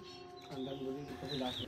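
Birds call around the quiet Kapil Muni ashram in Madhupur, Jharkhand. Soft, low cooing tones and a few high chirps sound faintly, with what seems like a voice mixed in.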